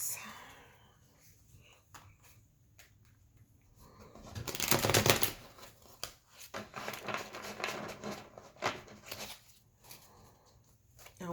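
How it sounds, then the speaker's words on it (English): A large, oversized tarot deck is shuffled close by, with a papery riffle burst midway followed by irregular card flicks and shuffling noises; a person murmurs softly under the handling. "shuffle this deck in a different way."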